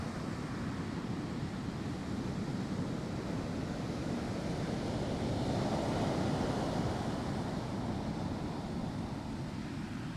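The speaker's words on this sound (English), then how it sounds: "Here comes the wave, the big wave." Continuous roar of ocean surf washing onto a beach at Point Reyes, California, steady and loud with a swelling wave in the middle, mixed with wind noise.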